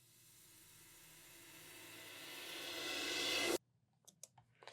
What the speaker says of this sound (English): is a reversed cymbal